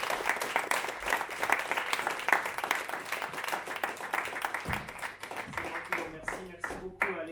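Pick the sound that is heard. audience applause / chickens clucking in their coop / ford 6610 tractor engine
audience applause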